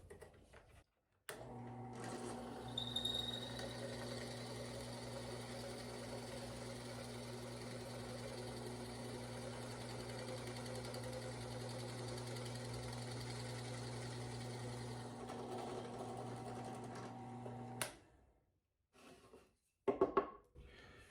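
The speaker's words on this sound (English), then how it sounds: "3/8 inch plug bit. Basically, it just drills a hollow hole here" A 3/8 inch plug bit drilling a hollow hole in wood to make plugs, heard as a steady, humming drill run of about sixteen seconds at moderate level that starts and stops abruptly.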